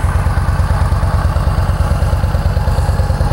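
A fuel-injected 2013 Yamaha V Star 950 motorcycle engine runs steadily close by, with a deep, even low-frequency pulse and a slight clatter, and no voices.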